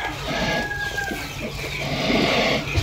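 Chickens among farm poultry including turkeys, with clucking and fowl calls close by over a busy, noisy yard background, continuous through the short stretch.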